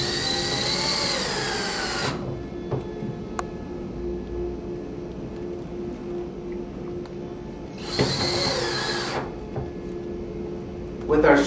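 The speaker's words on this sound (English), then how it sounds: "First, what we'll do is we'll install the smaller screw" A power drill drives a small screw into a header while a bypass door track is installed, with two whining runs of about two seconds and one second, a quick burst at the end, and someone talking between them.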